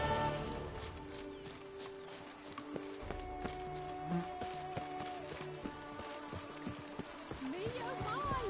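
A horse's hooves clip-clop at a steady pace through a Witcher 3 game scene, with scattered footfalls over quiet ambient game sounds and a voice heard faintly.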